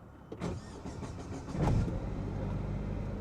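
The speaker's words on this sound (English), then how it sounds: "Now restart the car, turn the ignition on, allow the pump to run for a few seconds" An Opel Vectra C starts up after a fuel filter change: a short whirr of the fuel pump and starter, then the engine catches and settles into a steady, close idle.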